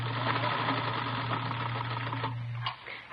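A sewing machine whirs steadily as a radio drama sound effect, a close, continuous mechanical hum with a rattling needle rhythm that stops abruptly near the end.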